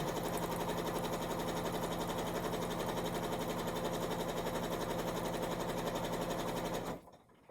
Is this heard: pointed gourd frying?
no